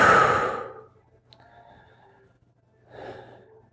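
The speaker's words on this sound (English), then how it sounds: "breathing out" A strong, breathy exhale opens the clip during a running brace breathing drill, fading into quiet, then a second softer breath follows near the end; no talking.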